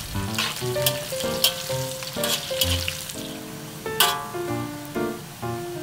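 Curry powder and curry leaves frying and being stirred in a pan for fish head curry: a bright, crackling sizzle with sharp spatters, under a melodic tune playing throughout.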